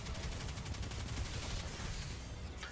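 Rapid sustained gunfire from the Risk Runner weapon in Destiny 2 during a Nightfall boss fight, a dense continuous rattle of shots at an even pace, loud and unbroken for nearly three seconds.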